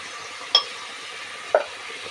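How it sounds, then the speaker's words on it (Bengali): Salt, cumin and chili powders are stirred into a pan for pav bhaji, giving two brief, distinct scrapes about a second apart over a low, steady background hiss. "সব মশলাগুলো একে একে দিয়ে দিলাম এবং এটাকে ভালোভাবে নেড়ে দেবো"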